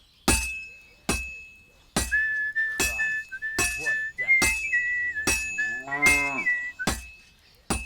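A character in Kingdom Come: Deliverance II whistles a wavering tune between sharp, regular metallic hammer strikes on an anvil, the melody sliding up and down over the evenly spaced, ringing blows.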